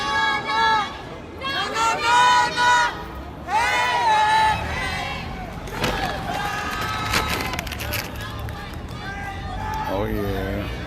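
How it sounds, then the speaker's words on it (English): Crowd at a Black Lives Matter protest in a Louisville park, with loud voices shouting and cheering in bursts over a steady hubbub, mixed with nearby talking. "The applause as the police have now gone away from the park."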